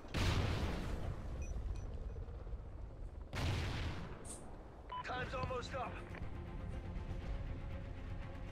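Gunfire and explosions from the Call of Duty Ghosts video game: a loud burst at the start, another boom midway, then continuous game noise with beeping tones, under players' voices.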